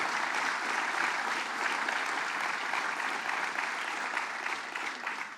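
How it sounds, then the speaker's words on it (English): Steady, even applause from a rally crowd for Congresswoman Nita Lowey at a paid family leave event, a uniform wash of many hands clapping that holds for several seconds before easing slightly. "Let's give her another round of applause,"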